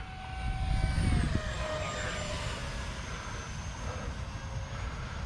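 A model airplane flies at full throttle, a high, whining motor that drifts in pitch as it passes, with a louder rushing burst early on before settling into a steady drone.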